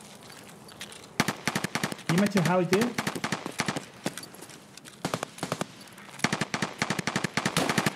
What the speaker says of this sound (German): Diese Schüsse sind verlockend.